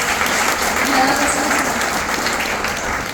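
An audience claps steadily in honour of a teacher, a dense, even patter of applause at moderate loudness with faint crowd murmur underneath.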